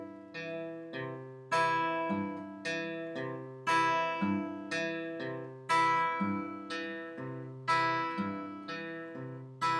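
Guitar fingerpicked in a Travis pattern, with an alternating bass thumb and a pinched note landing on beat two, a steady, clean, repeating plucked rhythm with ringing treble notes, played alone.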